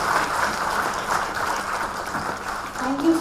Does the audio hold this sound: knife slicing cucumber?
no